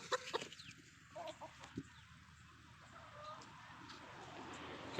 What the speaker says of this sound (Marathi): ही अंड्यावरची कोंबडी आहे.